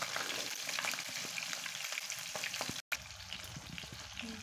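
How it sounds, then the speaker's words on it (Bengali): Pabda fish fry in hot oil with a steady, close crackling sizzle and spluttering pops, broken by one brief dropout before the frying noise resumes. "মাছগুলো পটপট করে ফুটছে"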